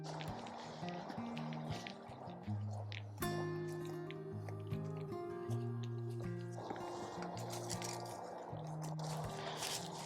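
A newly seeded fall garden bed being watered: a steady rush and patter of water runs the whole time, with a wavering low hum and occasional drips.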